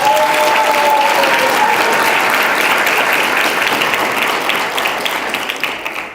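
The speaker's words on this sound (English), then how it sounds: "I'd also just like to have a round of applause for Dr. Martin Richards, Dr. Belinda Vincent" A crowd at a university awards ceremony gives a round of loud, dense applause that holds steady and then gradually tapers off toward the end.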